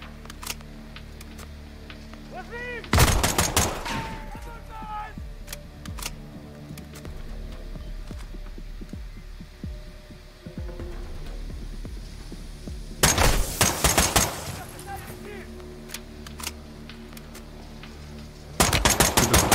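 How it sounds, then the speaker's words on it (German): Gunfire in the video game Modern Warfare 2: loud bursts of automatic fire in three separate clusters, with sharp scattered shots and clicks between them. "Schießen üben wir nochmal"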